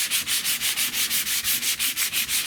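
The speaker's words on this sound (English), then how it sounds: "if I want to just work this with the sandpaper by hand" Rusty roof of a 1970 Buick Wildcat sanded by hand with sandpaper, a close, loud, steady rasping in quick regular back-and-forth strokes, about six per second, with no voices.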